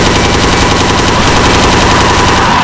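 Rapid automatic gunfire from the shooter game Dead Effect 2, loud and continuous with a tight, fast rhythm of shots filling the whole stretch, no voices.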